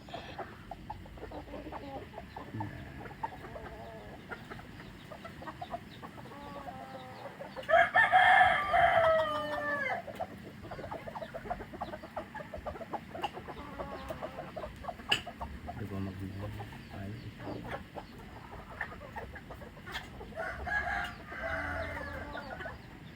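An old hen clucks and squawks loudly nearby, with more faint clucking later over a quiet outdoor background.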